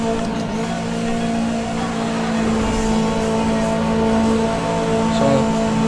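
Car engine in the racing game Need for Speed Most Wanted, held at full speed with a steady, loud droning whine and a faint rise near the end, no talk.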